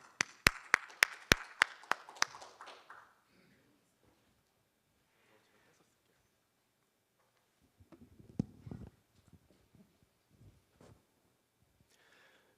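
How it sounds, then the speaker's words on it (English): A conference audience at a global battery forum gives a short burst of applause for an incoming energy-company CEO: about eight crisp, evenly spaced claps ring out over a soft patter, then die away after three seconds into near silence with faint stirring. "Send a warm applause."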